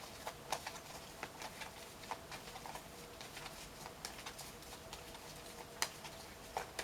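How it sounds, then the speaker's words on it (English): Oracle cards from a Queen of the Moon deck being shuffled by hand, giving a faint, steady run of soft papery taps and riffles with no talk over it. "I just shuffle them as long as I need to"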